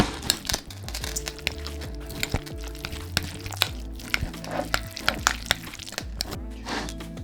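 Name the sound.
mixing potato salad sauce in a bowl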